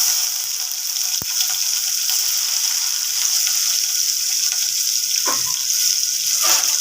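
Onions frying in a pan as they turn golden: a constant bright hiss of oil throughout, with a sharp click near the start and a couple of soft scraping stirs toward the end, nobody speaking.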